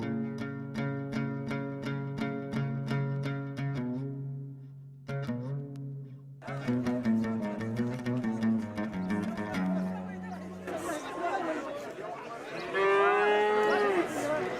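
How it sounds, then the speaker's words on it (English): A cow in Morocco moos repeatedly in long, loud, harmonic calls, with brief gaps between them, and rougher, noisier lows toward the end. "Nice, actually, a nice looking cow."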